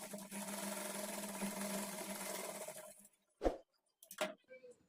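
A sewing machine dot stitching a blouse, running in a steady whirring burst for about three seconds, then stopping and followed by two short handling clunks.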